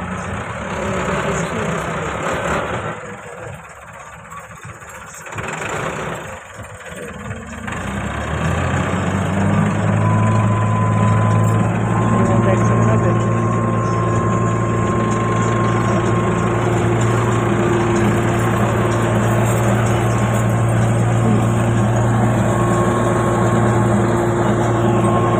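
A tractor engine runs beside a freshly dug field drain in cracked soil. A softer rumble for the first several seconds gives way to a loud, steady, close idle with a constant droning hum that continues to the end.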